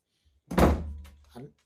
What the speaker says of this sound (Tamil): இந்த கதவை டம்மு டும்முன்னு சாத்துற வேலையெல்லாம் எதுக்கு